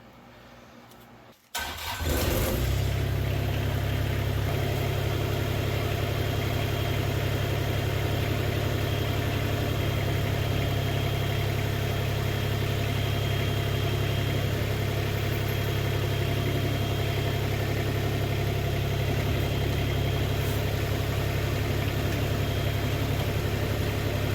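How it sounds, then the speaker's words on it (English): A tractor engine, running so a front-mount 50 inch snowblower can be lifted into place, cranks and catches after a moment of quiet, then settles into a steady, loud idle that carries on throughout. "I'll have to start the tractor up, and it'll lift up on that"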